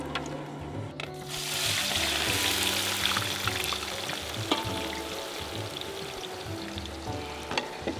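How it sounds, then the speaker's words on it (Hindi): Thin onion rings dropped into boiling oil for barista, a sudden loud rush of frying that settles into a steady hiss and crackle with a few clinks, no speech. "उन्होंने खोलते हुए तेल में सारी प्याज पलट दी।"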